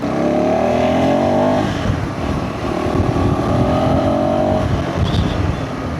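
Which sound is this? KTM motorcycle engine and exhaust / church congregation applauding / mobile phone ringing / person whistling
KTM motorcycle engine and exhaust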